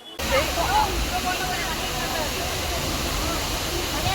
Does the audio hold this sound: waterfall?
yes